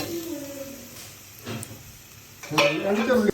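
A spoon stirs and scrapes a bitter gourd and sardine curry with coconut in a pan, with light sizzling, while someone talks briefly.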